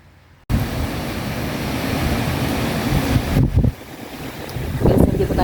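Strong typhoon wind during Typhoon Ragasa at Discovery Bay, Hong Kong roars in a loud, steady rush of gusts buffeting the microphone, briefly easing before surging again.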